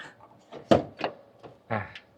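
A Hino S700 truck's cab door being opened, giving a few short, close clunks and latch knocks spread over about two seconds, with quiet gaps between them.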